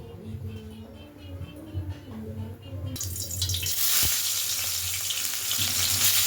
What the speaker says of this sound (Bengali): সর্ষের তেল দিয়ে দিলাম এবারে মাছটাকে ভেজে নেব